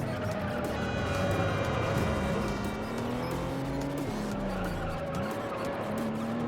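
A prototype Toyota Supra racing car in the video game Juiced drives hard, its engine whine rising and falling through gear changes while tires squeal and skid. The sound is continuous and close, with no talking.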